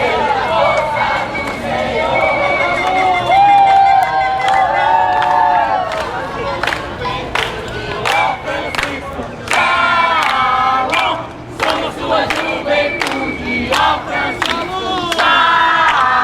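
A large crowd of young pilgrims from Sobral, Ceará, singing and cheering loudly on a main avenue near the cathedral during World Youth Day in Rio, with rhythmic chanting, whoops and sharp claps over continuous voices.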